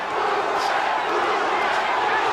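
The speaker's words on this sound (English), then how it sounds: "The crowd starts to chant again." A boxing arena crowd at the Roberto Duran versus Iran Barkley fight chants in a steady, dense roar, continuous and fairly loud from start to finish with no pauses.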